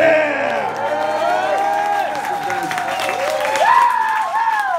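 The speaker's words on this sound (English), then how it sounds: "You are applauding yourselves" A live concert audience in Paris applauds and cheers in a continuous roar of clapping, with whoops and shouts rising over it and a voice speaking through the noise.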